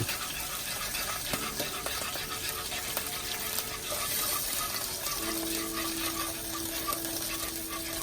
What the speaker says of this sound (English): Here to the butter and garlic, I've got 2 cups of heavy whipping cream that we're gonna add to this. I'm gonna stir this in as we add it.